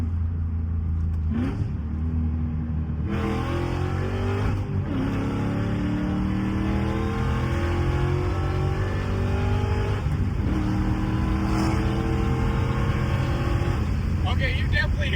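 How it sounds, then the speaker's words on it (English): A supercharged Ford Mustang with a 4.6 3V engine accelerates hard, its engine note rising through the gears with blower whine climbing on top, loud and close, and brief shift breaks between pulls. "you definitely hear the blower whine up top when you're getting a hard pull like that"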